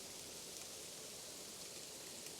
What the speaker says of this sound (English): it's really starting to rain again